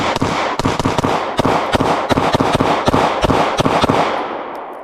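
A Taurus GX4 Micro pistol fires a fast string of loud, crisp shots, roughly a dozen or more close together, then a trailing fade, with no talking.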